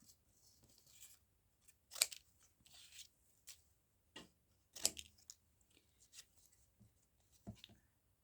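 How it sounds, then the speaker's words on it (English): Scissors snip a paper border for a shaped pocket in a recycled-paper craft. Quiet, close blade cuts come in irregular bursts, with a few sharper snaps and soft paper rustling between them and no voice. "just cutting a border around the edge so that it matches the rest and increases the surface area"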